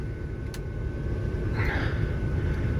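A 1977 Ford LTD Landau engine idling, a low, steady rumble throughout with a couple of faint clicks and a brief higher whoosh midway.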